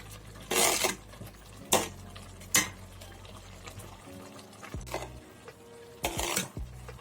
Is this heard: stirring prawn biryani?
yes